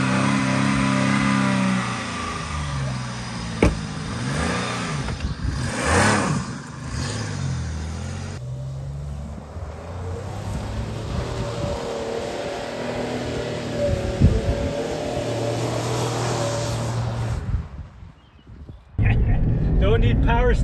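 A Dodge Nitro doing a burnout, its engine revving hard in rising and falling surges close by while people talk and shout over it; the noise then drops away briefly before picking up again.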